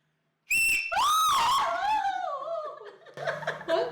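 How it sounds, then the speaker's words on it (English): A person whistles loudly through their fingers, a shrill piercing tone that bends and wavers over a few seconds, nearby in a quiet room, followed by a brief exclamation of laughter. "I can whistle with my fingers."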